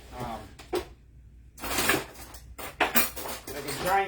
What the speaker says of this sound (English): I'm going to rummage through the kitchen utensils and see what we got that I can use to mix.